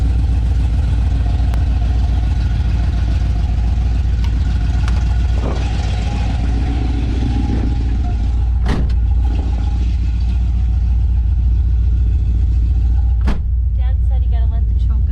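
A Mopar muscle car engine runs steadily with a deep, continuous low rumble, close and loud, as the car is driven, with a couple of sharp knocks or clicks breaking through.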